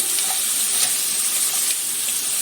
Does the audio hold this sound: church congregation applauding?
no